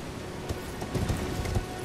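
Horse hooves clip-clopping in Elden Ring, a short run of light, fairly quiet footfalls over a soft ambient bed.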